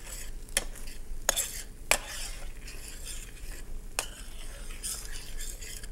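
A spoon stirs grape leaf filling with about two tablespoons of fresh lemon juice, making soft mixing rustles close up, broken by a few sharp clinks against the bowl.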